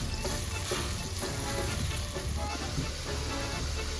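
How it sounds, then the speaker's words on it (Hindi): Masala with ground coriander and salt frying in oil, a steady, dense sizzle that fills the whole stretch, with soft stirring scrapes mixed in and no talking. "अब इसकी आप अच्छे से भुनाई करेंगे"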